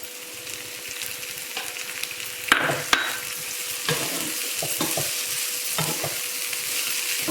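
Boiled cowpeas are stirred into sautéed ingredients in a pan, sizzling steadily with scraping spoon strokes and occasional clinks against the metal, close and continuous.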